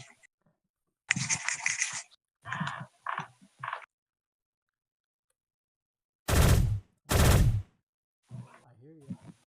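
Gunfire in the Shell Shockers online shooter game comes as two loud, close bursts partway through, with voices talking before and after.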